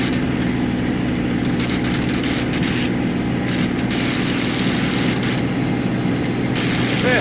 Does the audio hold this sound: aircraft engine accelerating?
yes